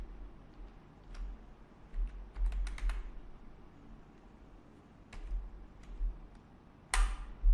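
Keys clack on a computer keyboard in short bursts of quick taps separated by pauses, close and fairly quiet, with a louder clatter near the end and no talking.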